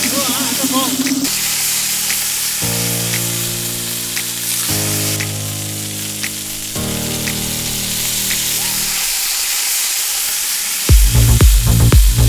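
Poha and fish sizzling on a griddle during a riverside monsoon cook in Goa, giving a broad, steady hiss under sustained tonal music, with sharper crackles near the end.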